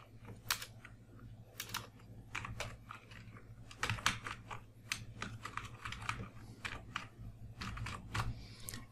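An email address is typed on a computer keyboard in quick, quiet bursts of close clicking keystrokes with short pauses between runs.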